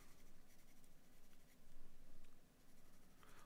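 A pencil scratches steadily on paper while drawing steep, angular mountains, a close, soft, continuous rasp with rhythmic stroke pulses and no talk.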